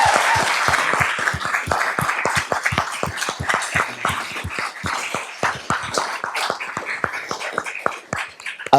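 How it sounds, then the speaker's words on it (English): Audience applause at a Q&A session of the Fraser Valley Writers Festival 2025, a dense, steady clapping that stays loud and continuous throughout. "Can we give them one last big round of applause?"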